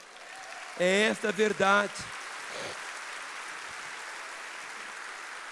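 Church congregation applauding during an evening Baptist worship service at Igreja Batista da Lagoinha: a steady, moderately loud wash of clapping that follows a short spoken line from the preacher and carries on to the end.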